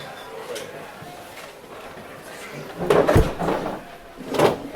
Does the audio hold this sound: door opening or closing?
yes